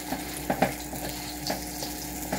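Cabbage stew with prawns and tomatoes simmers and sizzles in a pot over reduced heat, a quiet, continuous crackle with a few soft bubbling pops.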